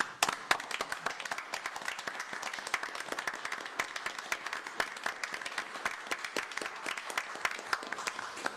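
Applause at a city commission meeting, with a small group clapping in scattered, crisp individual claps that stay steady for several seconds.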